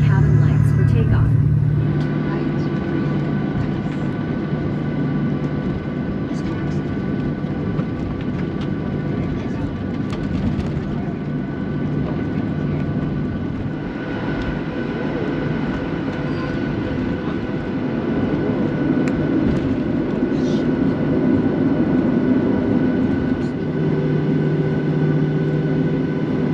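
Steady, loud roar inside the cabin of a Boeing 737-800 jet, flying from Chicago to Calgary, during takeoff. The rumble is continuous and broadband throughout, and faint cabin sounds sit underneath.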